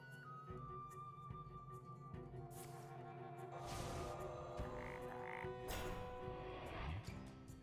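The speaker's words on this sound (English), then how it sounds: "Turning everything into a frog." Hearthstone minions being turned into frogs, a burst of croaking mixed with magical whooshing and chiming card-game effects, busy and layered.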